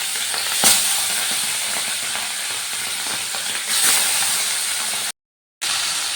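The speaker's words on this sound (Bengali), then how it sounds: "এবার তেলের মধ্যে আমি কমপ্লিট মাছগুলো দিয়ে দিচ্ছি" Whole pomfret fish rubbed with salt and turmeric sizzle steadily in hot oil, a dense continuous hiss with a couple of brief louder crackles and one short cut to silence near the end.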